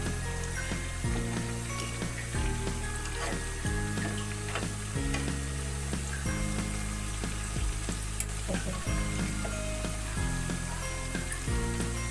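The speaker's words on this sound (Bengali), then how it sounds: "পেঁয়াজুর এক সাইড ভাজা হয়ে গেছে, আমি এখন উল্টে দিচ্ছি" Piyaju lentil fritters fry in hot oil, a steady crackling sizzle with soft scraping and stirring knocks as they are turned, close and alone with no voices.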